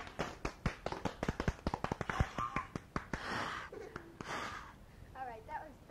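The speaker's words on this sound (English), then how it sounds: "that was just a little cheering there" Small group cheering and clapping on a 1979 home recording at a holiday gathering, a run of quick claps followed by brief whoops and shouts, fairly close, with voices mixed in.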